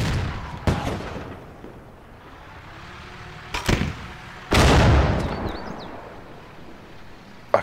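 ARMA 2 video game gunfire: sharp single shots spaced well apart, one heavier blast with a rumbling tail near the middle, and a last crack at the end, set against a quiet background.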